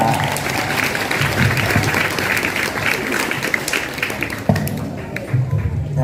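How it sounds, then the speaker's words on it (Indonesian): Lively crowd clapping at a school farewell event, dense and steady for six seconds, with voices and chatter mixed underneath. "Tepuk tangan lo lah."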